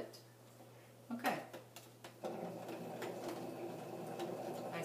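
A sewing machine stitches a tuck into a sweater seam. A few handling clicks come first, then the machine starts up and runs in a quiet, steady mechanical whir, with faint speech nearby.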